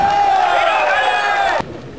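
A large crowd at an outdoor political rally roars with cheers and clapping, loud and continuous, then cuts off sharply near the end.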